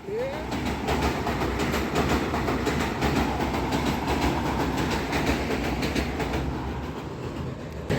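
A train rumbles past close by overhead with a steady clickety-clack of wheels on rails, loud and continuous throughout.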